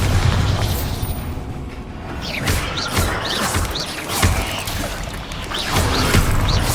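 Magic spell blasts in Hogwarts Legacy, a dense run of booming, crackling explosions with whooshing, whistling bursts layered over a heavy continuous rumble, loud and close throughout.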